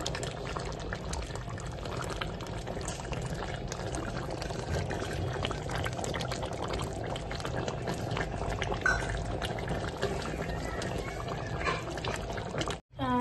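Mutton fry with potatoes being stirred in a pot near the end of cooking, a steady bubbling, sizzling wash of sound with soft scraping, continuous and fairly close throughout.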